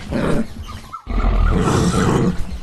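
A tiger roars in a tiger simulator video game: loud, rough, close-up growling roars in two long bursts split by a brief silent break.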